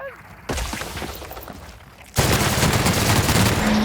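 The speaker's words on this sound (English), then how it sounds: "Gunfire, I heard." Gunfire in The Outer Worlds video game: a sudden burst of rapid shots and crackling impacts that turns into a louder, dense barrage near the end, with nobody talking.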